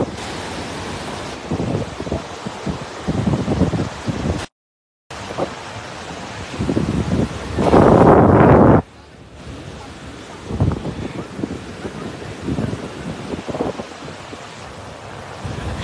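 Ocean surf rolls steadily along the beach at Playa del Ingles, a continuous broad wash with gusts of wind buffeting the microphone, one loud surge partway through and a brief dropout before it.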